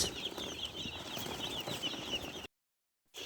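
Young chickens in a poultry shed cheep and cluck in a busy, overlapping chorus that stays close and steady, then cuts to sudden silence before a brief return.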